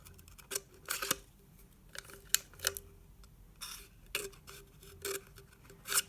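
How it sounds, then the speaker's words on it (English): Scissors make quick, small snipping cuts into the material for a DIY phone stand, giving several soft, close clicks and snips in an irregular rhythm against a quiet room with no talking. "Just a few little cuts real fast, like that, so that it make it a little easier to fold it over."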